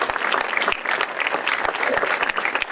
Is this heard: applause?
yes